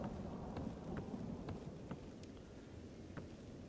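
Steady rain and rolling thunder from a storm in the video game Stalker Anomaly, a continuous dense wash of downpour with low rumbling throughout and no voices.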